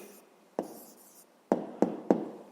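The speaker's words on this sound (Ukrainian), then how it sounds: "Ну і записуємо тоді відповідь." A pen writes out the answer to a fifth-grade arithmetic-mean problem, with a soft scratch followed by a few sharp taps and short strokes, close by and alone.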